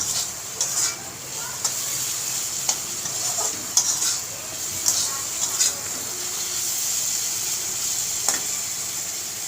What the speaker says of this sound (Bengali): এবার এটা যতক্ষণ না তেল ছাড়া হয় ততক্ষণ ভালো করে কষে নেব।